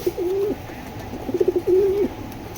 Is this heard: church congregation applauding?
no